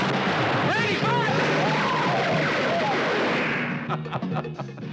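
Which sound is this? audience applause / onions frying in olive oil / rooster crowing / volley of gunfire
volley of gunfire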